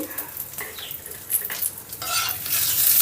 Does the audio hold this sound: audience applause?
no